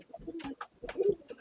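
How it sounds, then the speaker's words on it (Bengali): An Andhra pigeon cooing close by, a few soft, throaty low coos in quick succession with brief gaps between them. "পায়রা আবার কি বলে এটাকে, যে সুন্দর যেটা করছে, না না যেটা ই করছে আওয়াজ করছে এটাকে কি বলে?"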